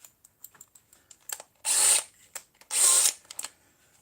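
A flat wood drill bit bores a hole into plaster in two sustained, loud whirring bursts of about a second each, with light taps and clicks between them.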